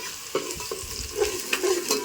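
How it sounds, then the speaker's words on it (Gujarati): Onion frying in oil in a village kitchen while a spoon stirs it, quiet sizzling under a series of sharp scraping and clinking stir strokes at an irregular pace. "આપણે ડુંગળી નાખી દીધી છે તેલમાં"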